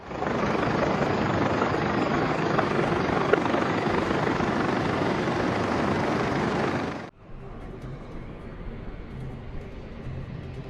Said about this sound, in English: Helicopters circled overhead